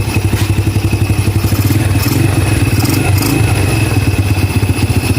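A Yamaha Crypton 110 motorcycle engine that had long sat unused runs close and loud with a rapid, rattly idle, briefly picking up in revs before settling, with no voices.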